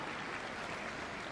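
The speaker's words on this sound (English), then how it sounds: "That's worth a round of applause, to be fair." Soft, distant applause from the arena crowd at the Crufts 2017 Kennel Club British Open agility jumping final, forming a continuous wash of clapping that stays faint and even.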